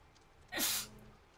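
A single sharp human sneeze, close and brief, standing alone against a quiet background.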